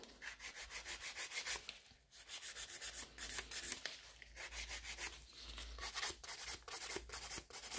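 A nail file works quickly over gel nail extensions around the cuticles, producing a rapid, rhythmic rasping of short, close strokes with brief pauses between bursts.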